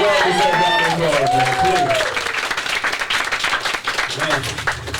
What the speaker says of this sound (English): Give them both a well-deserved round of applause